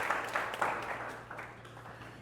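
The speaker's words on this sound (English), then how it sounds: "let's clap it up for yourselves" Conference audience claps at a speakers event, a steady wash of moderate applause through the whole stretch, with faint voices underneath.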